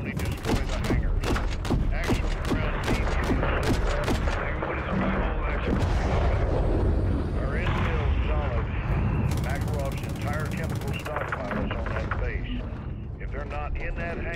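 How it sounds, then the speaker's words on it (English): RPG fire and explosions in Call of Duty MW3 during a hangar battle, a dense barrage of rapid gunfire bursts and heavy booming blasts, loud and continuous, with radio voices talking over the combat. "We're taking RPG fire."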